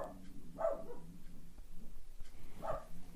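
A pet dog barks at something outside in a home, with two short bursts of barking separated by a pause amid quiet room noise and faint indoor sounds.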